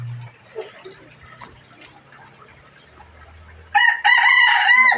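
A labuyo jungle fowl rooster crows loudly and close by near the end, after a few seconds of quiet rustling and faint background sounds.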